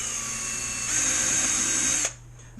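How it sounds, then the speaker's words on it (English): Power drill boring holes into the transom of a ZippKits A Box Crackerbox RC gas boat, a steady high whine that lifts in pitch at one second and cuts off abruptly near the end, close and alone. "let's drill these holes."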